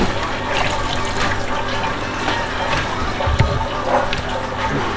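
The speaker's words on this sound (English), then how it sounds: "So I'll make sure it's all dripping back in." Rum distillate trickling and splashing back into a glass beaker, a continuous close-up liquid pour with small gurgles and a brief clunk of handling.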